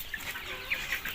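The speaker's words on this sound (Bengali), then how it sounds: "এখানে তো আমার 300 সোনালী মুরগি নিয়ে আসছিল" Sonali chickens cluck softly in a farm shed on a cold afternoon, the short calls scattered and faint over a steady background hiss.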